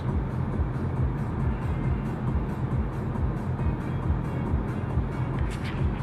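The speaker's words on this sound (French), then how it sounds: "Je laisse un peu le Kona rouler." Hyundai Kona electric car driving, a steady low rumble of road and tyre noise with wind inside the cabin, even and continuous with no voices.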